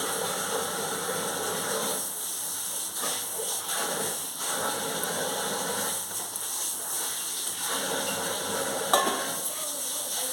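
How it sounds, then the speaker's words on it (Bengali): Pointed gourds stuffed with prawn filling bubble in a pot of boiling gravy for a Bengali dorma, giving a steady close sizzle and simmer with occasional light stirring and pot clinks, no talk. "দেখুন আমার ঝোলটা ফুটে উঠেছে এবার আমি এই পটলগুলো এর মধ্যে দিয়ে দিচ্ছি"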